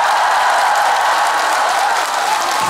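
Dense, steady applause from a large audience at an outdoor festival concert in Ulsan, a continuous wash of clapping without pause.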